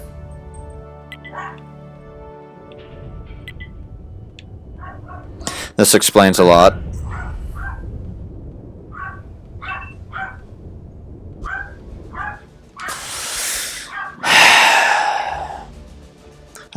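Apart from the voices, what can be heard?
dog barking and whining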